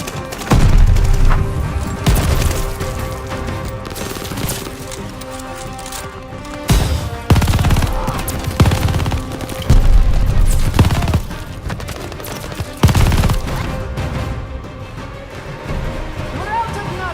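Gunfire and explosions in the World War II shooter game Call of Duty: Vanguard, with loud booming bursts and scattered rapid shots recurring across the scene over shouted dialogue and background battle noise.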